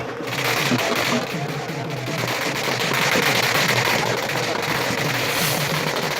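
Dense, rapid crackling and popping of fireworks at a by-election result celebration, loud and continuous like a barrage, with voices faintly mixed in.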